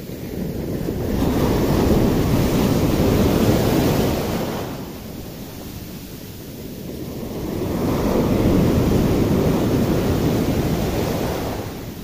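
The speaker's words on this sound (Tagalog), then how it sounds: "Ilang lumaki yung mga alon" Large ocean waves and strong wind during fishing in rough seas, a deep roaring wash that swells, eases and swells again, with constant wind buffeting the microphone and no voices.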